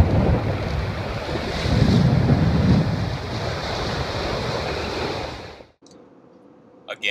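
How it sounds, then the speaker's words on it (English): Strong wind of about 30 knots roars across the microphone while waves rush against a sailboat heading down Chesapeake Bay, a dense continuous whoosh that swells and then cuts out abruptly near the end. "So it's a nice windy day, about 30 knots of wind."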